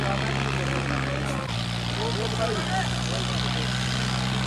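A Sonalika 745 tractor engine runs hard at a tractor competition, a loud steady diesel drone with a droning harmonic hum that dips briefly and steps back up, crowd noise and voices mixed in.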